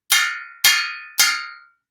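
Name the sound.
metal kitchen objects clanging, spaghetti strainer and tool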